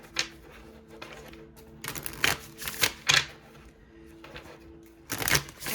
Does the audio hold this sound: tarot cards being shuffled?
yes